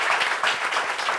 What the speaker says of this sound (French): Applaudissements pour le style vestimentaire de coach Hortense.